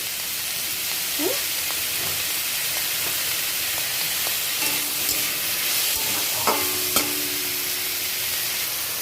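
Onion and tomato frying in a pan, a steady close sizzle and hiss with occasional utensil clinks and scrapes, faint speech-like sounds in the background.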